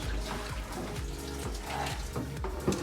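Water is poured into a pot while dal fry cooks in a home kitchen, a close splashing trickle with a string of repeated gurgles and a brief clatter near the end.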